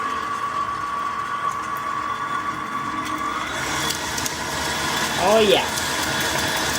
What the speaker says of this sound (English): I have big commercial mixer, and it's going to do quick,